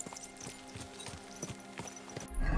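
Horse hooves in the medieval game Kingdom Come Deliverance 2 clip-clop in a steady walking rhythm over ambient sound, ending in a louder rumble.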